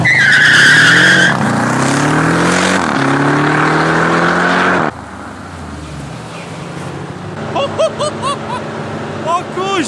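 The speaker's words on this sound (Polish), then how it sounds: "Spróbuję zrobić launch control." A 717-horsepower Jeep Grand Cherokee Trackhawk SUV does a launch-control start, its engine roaring up through rising revs with a gear change and a brief tire squeal, then settling into a quieter cruise while a person talks.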